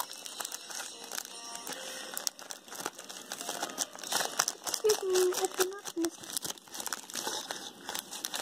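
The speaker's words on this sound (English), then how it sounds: "let me get out my handy dandy scissors and cut this open." Plastic packaging from a craft-store haul crinkles and crunches while being cut open with scissors, continuous handling noise close up at moderate volume, with a brief voice-like tone partway through.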